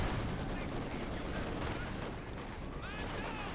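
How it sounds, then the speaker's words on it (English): Sustained MG42 machine gun fire from German Grenadiers opening up at long range in a World War II strategy game, a dense unbroken crackle of rapid shots with a faint voice underneath. "Grenadiers, again, great at long range with those MG42s, opening fire"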